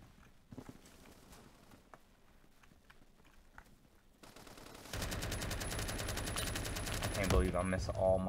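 Automatic gunfire from Roblox Phantom Forces, a dense sustained burst erupting loudly after a quieter stretch of scattered game clicks and faint shots, with a voice speaking faintly at times.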